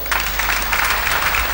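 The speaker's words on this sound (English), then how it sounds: "A round of applause." An audience at a church sermon applauds with steady, dense clapping throughout, loud and close, with no talk over it.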